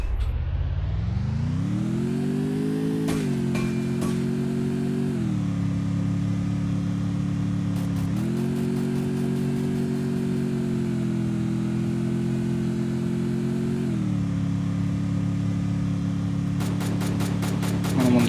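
A motorbike engine in the Free Fire video game drones steadily throughout, its pitch stepping up and down as the bike accelerates and eases off, with brief sharp bursts like gunfire layered in at moments.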